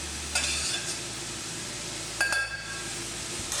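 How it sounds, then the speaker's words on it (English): Courgette and pasta tossed with pesto in a hot pan, a soft steady sizzle with a couple of quick clinks of tongs or utensil against the pan, quiet and without talk. "Straight into my pan with my veggies and my pesto."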